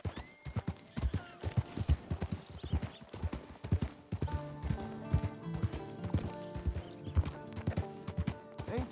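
Horse hooves trotting in Red Dead Redemption 2, a steady close clip-clop rhythm throughout, joined midway by a sustained musical tone underneath, with no talking.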